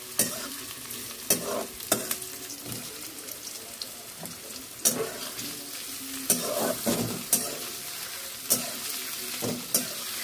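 Vegetables stir-fried in a pan for a Bengali home meal, a steady sizzle broken by sharp scraping spatula strokes at irregular intervals, close and fairly loud, with no voices.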